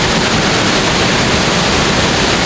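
Tamanique Waterfall in El Salvador roars as a steady, loud broadband rush of falling water, continuous and close throughout with no voices.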